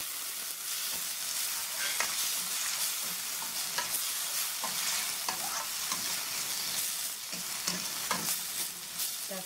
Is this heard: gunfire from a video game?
no